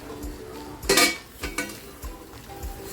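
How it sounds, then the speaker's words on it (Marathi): Metal lid lifted off a pan of tandoori chicken, a close clattering clink followed by a few lighter metallic knocks against a low steady background. "झाकण काढून बघूया"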